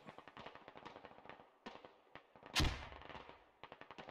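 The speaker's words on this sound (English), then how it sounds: "good nade on Lego" A grenade explosion in the military shooter Squad lands with one sharp, heavy blast midway, set among scattered distant gunshots and crackling rifle fire at low overall volume.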